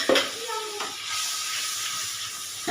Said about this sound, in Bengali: একটুখানি জল দিয়ে দিচ্ছি হালকা করে যাতে মশলাগুলো পোড়া না লাগে